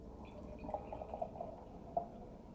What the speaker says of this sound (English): It's actually pouring a little different than a typical hazy, juicy IPA.